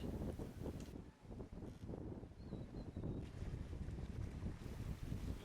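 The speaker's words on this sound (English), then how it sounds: "The sails began to fill out in tune to the increase of the wind" Strong wind on a sailboat under sail in the Cyclades, blowing around 25 knots: a loud, steady roar with microphone buffeting and the rush of water beneath, and no voices.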